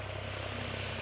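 A tractor engine chugs steadily in the distance near fields of pigeon pea plants, a low continuous rumble with a faint rhythmic throb that holds unchanged throughout.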